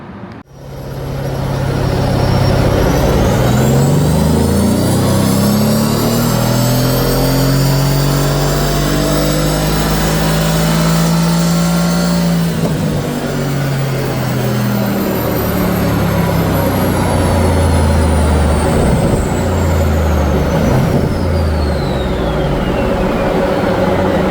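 A Mercedes C63s AMG with stage 1 turbos revs loudly and close by, its pitch climbing steadily for about ten seconds, then falling back and settling into a sustained roar, with no speech.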